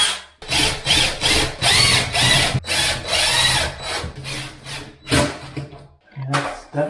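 A power drill drives securing screws into a wooden furniture piece in repeated loud whirring bursts, each a second or so long, with brief pauses between them and no talk.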